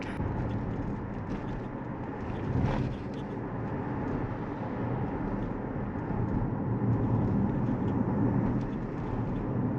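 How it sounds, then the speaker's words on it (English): Steady broadband road roar fills the cabin of a 2024 Toyota bZ4X front-wheel-drive electric SUV driving over rough chip-seal pavement, a constant dense rumble with no engine note and no voices. "on this rough seal, we are picking a few more road noise compared to what we had before"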